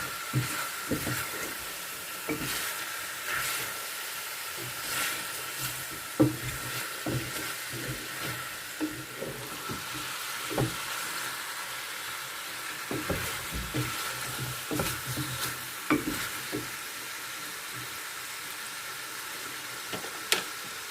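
Chicken biryani sizzles and fries steadily in a pan while a utensil stirs it in repeated scraping strokes, close and fairly quiet with no talking.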